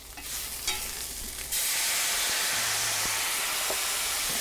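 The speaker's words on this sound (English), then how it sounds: "we're going to deglaze this with a little white wine" A sudden loud sizzle bursts out of a hot pan deglazed with white wine and settles into a steady, hissing crackle that continues to the end.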